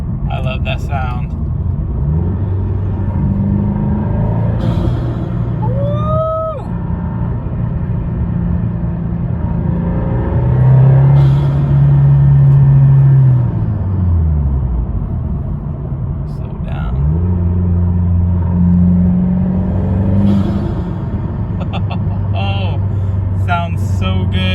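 A 2022 Subaru WRX fitted with a BMS intake idles loudly nearby, its engine revving up in several swells and settling back between them.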